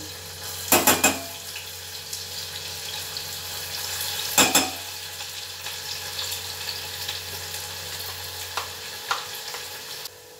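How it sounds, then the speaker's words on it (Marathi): Chopped onion dropped into hot tempering oil for an egg and mutton curry sizzles steadily, broken by two loud bursts of clattering and stirring and a few lighter clinks near the end. "फोडणीला कांदा टाकते."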